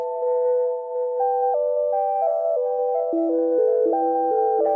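Eurorack synthesizer oscillator runs through a Mimeophone delay effect, producing overlapping sustained tones that step through a slow melody, smeared and layered by echoes, steady and close.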